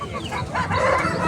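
Chickens cluck and squawk up close in a brief, busy burst, like a crowded coop of poultry, at the Erragadda Sunday poultry market.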